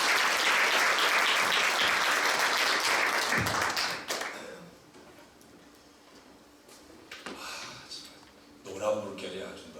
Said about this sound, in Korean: 우리 박수로 환영하고 설교 말씀 듣도록 하겠습니다